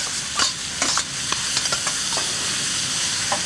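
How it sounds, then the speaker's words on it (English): Meat frying with onions in a pan gives off a steady sizzle, broken by scattered scraping stir strokes and clinks near the start before settling into even frying. "Okay, let's put the meat in next."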